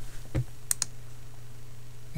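Typing on a computer keyboard: a few quiet, sparse clicking keystrokes close by, with a short pause between taps and a final click at the end, over a faint background hum.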